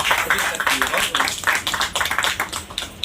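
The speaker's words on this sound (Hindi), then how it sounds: "एक बार ताली बजा दीजिए।" An audience at a business motivational meeting in India applauds, dense continuous clapping filling the room while a voice talks over it.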